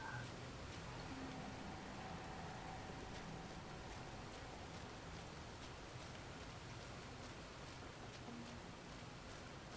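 Rain falls steadily in Fallout New Vegas, a constant even hiss that fills the whole stretch with no voices over it.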